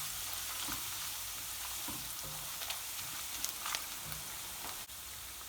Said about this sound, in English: as soon as it starts sizzling away, we're going to add our garlic